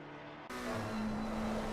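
A McLaren GT3 race car's engine hums in a sim racing game at Imola, a steady tonal drone that jumps louder partway through and holds, short and fairly faint.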